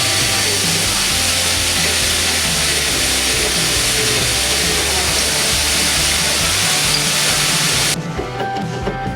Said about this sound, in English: I have to adjust the holes a little bit and widen them